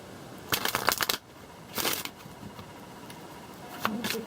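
Playing cards shuffled for a reading in three distinct bursts of crisp riffling, quiet pauses between them, close and fairly soft with no talking.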